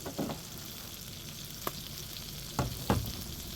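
Butter heats in a pan with a faint, steady sizzle, broken by a few soft clicks and taps of a utensil against the cookware.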